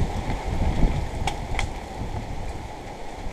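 Hurricane wind gusts in a low, rushing roar buffeting the microphone outdoors, steady turbulence with a couple of faint clicks.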